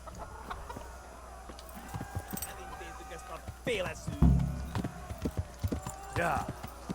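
Horse hooves clip-clop steadily while riding in the video game Kingdom Come: Deliverance, with chickens clucking nearby and a person talking over the game audio.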